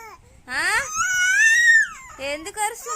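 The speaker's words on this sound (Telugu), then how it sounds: "ఎందుకు అరుస్తున్నావు నువ్వు?" A baby cries and screams loudly at home, a few drawn-out, rising and falling wails with short breaks between them, close to the listener.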